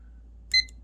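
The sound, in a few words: oven timer being started, beeping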